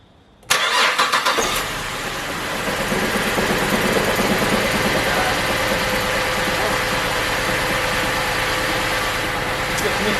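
A car engine cranks and catches after a repair, then settles into a steady idle that runs on without a break, with a harsh, noisy burst right at the start.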